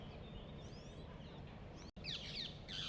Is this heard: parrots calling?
yes